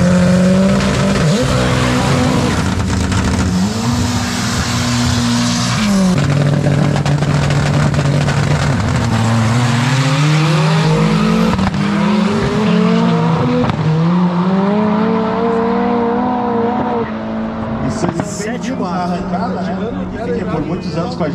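A drag race car engine roars and revs loudly at a no-prep event in Tarumã, pitch climbing and dropping through gear shifts, with tire noise and a crowd or commentator voices underneath.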